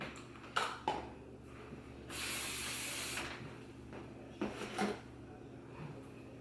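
A steady aerosol hiss of light-hold hair spray lasting about a second, set between a few soft clicks and handling noises in a quiet room.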